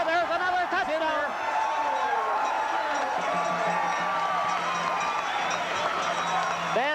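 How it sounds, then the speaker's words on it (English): A stadium crowd at a 1988 Western Final football game between Sun and Hilltops cheers and whoops after a touchdown. The roar is loud and sustained, with a broadcaster's voice over it. "Listen to the crowd."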